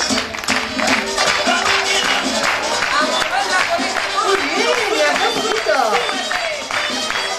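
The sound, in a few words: audience clapping for a girl dancing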